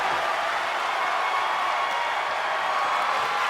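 A video game crowd at a WWE 2K23 wrestling match roars and cheers in a steady, dense wash of noise that holds evenly throughout.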